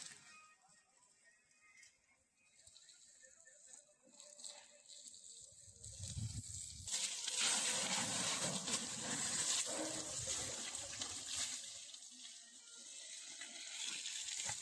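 Water sprays while a red Massey tractor is washed outdoors in a village in bright sun. A faint trickle gives way to a loud, steady rushing spray midway that continues to the end, with some voices in the background.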